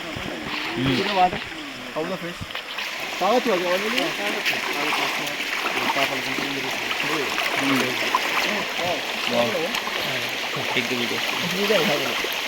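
Stream water flows and splashes near a waterfall close to Warangal, a constant watery rush running under a person talking.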